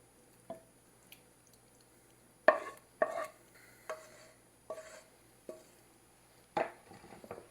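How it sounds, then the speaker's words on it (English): Sauce is poured and spooned over tortellini in a crock pot for a taco lasagna, a quiet series of wet plops, squishes and light utensil clinks spaced irregularly, close and faint with no talk. "And then you can pour this over the tortellini."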